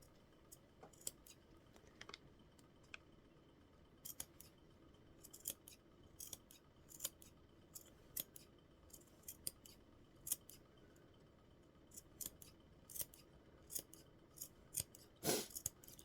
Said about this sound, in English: I'm using Guggenheim scissors, which are the best for cutting through thick layers.